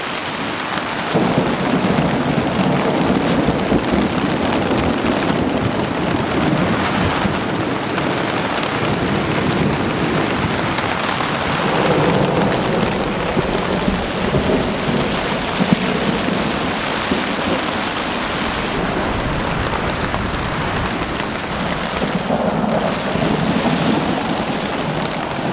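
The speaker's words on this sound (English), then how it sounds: "There's been some really good thunder." Heavy rain pours steadily during a wilderness canoe trip on the Mississagi, while rolling thunder rumbles and swells repeatedly, loud and close, with no voices.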